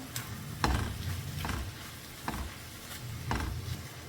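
A spoon stirs samosa stuffing in a pan, the scraping strokes coming in a slow, regular rhythm of about five passes over a faint sizzle, quiet and close with no talking.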